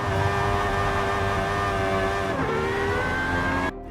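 A GMA T.50 supercar engine in the Forza racing game holds a loud, steady high-revving drone with a slight pitch shift partway through, then cuts off abruptly near the end, with no talk.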